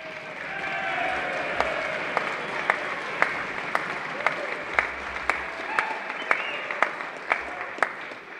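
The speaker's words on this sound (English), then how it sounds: "he's getting applause from Democrats" Audience applause during a governor's speech on Medicaid, a steady wash of clapping from a crowd, with a few louder individual claps standing out sharply above it.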